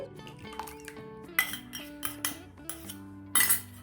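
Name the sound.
whisking curd into tutti frutti cake batter in a bowl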